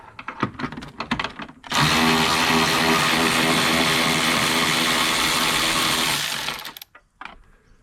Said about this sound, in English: I'm just going to take those two bolts out, the bottom of the radiator, both sides